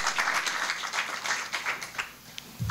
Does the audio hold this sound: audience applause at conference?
yes